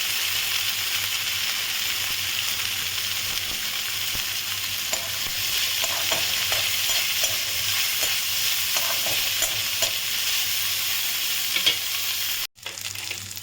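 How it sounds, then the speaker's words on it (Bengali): Soybean chunks go into hot oil with peanuts and green chillies for a vegetarian chop, making a continuous close sizzle with light stirring scrapes throughout and a short dropout near the end. "বাদাম কাঁচা লঙ্কাটা ভাজা ভাজা হয়েছে, এবার আমি দিচ্ছি সয়াবিনটা।"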